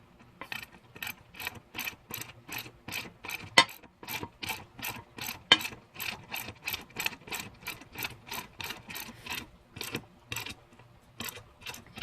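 Ratchet tool clicking steadily while a scooter's back wheel is tightened, a close, quiet run of evenly spaced mechanical clicks with a couple of brief pauses and two sharper ticks.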